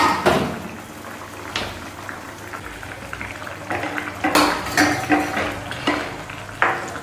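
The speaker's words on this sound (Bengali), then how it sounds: "এবার একটু ভালো করে নাড়িয়ে নিই আর কম ফ্লেমে আর একটু সময় জাল দিই" Bengali fish curry simmers in a pot over a low flame while a spoon stirs it, giving repeated metallic scrapes and clinks against the pot over a soft bubbling background; no talking.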